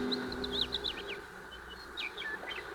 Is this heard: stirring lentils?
no